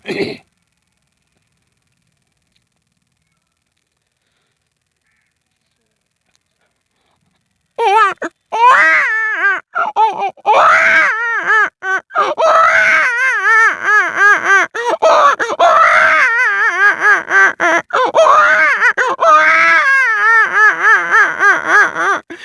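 A male performer imitates a crying baby with his voice: after a long silence, loud wailing, sobbing cries start and run in rapid, breathy bursts that continue to the end.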